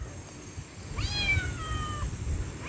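A cat gives a single clear, drawn-out meow in the middle, moderately close, over a steady outdoor background hum with no talking.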